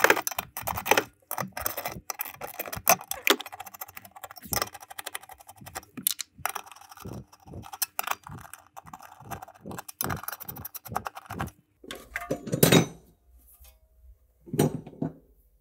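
A 13 mm socket and ratchet remove bolts from a sheet-metal panel in a VW Polo 6. Rapid, close clicking comes in irregular bursts, with a few louder clunks near the end.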